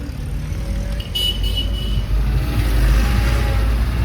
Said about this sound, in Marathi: पूर्ण ट्रॅफिक जाम आहे